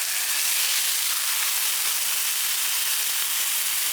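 Marinated carne asada sizzles loudly and steadily in a pan on a camp stove, a dense continuous hiss with no break or voice over it.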